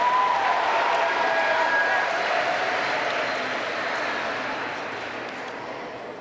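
An audience at a middle school awards ceremony for 6th and 7th graders claps in a full, steady burst that gradually tapers off, with faint voices mixed into the crowd.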